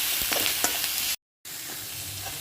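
Drumstick leaves with salt sauté in a pan, giving a close, steady sizzle with a few stirring scrapes, broken by a brief silent gap midway.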